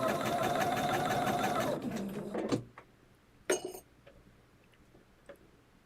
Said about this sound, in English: So now I'm going to start stitching 1/4 of an inch away